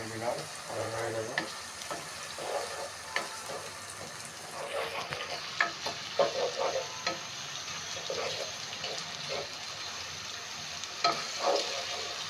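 Onion paste frying in a pan for a country-chicken roast: a steady sizzle with scattered stirring clicks and scrapes, brightening and hissing louder partway through, close and fairly quiet.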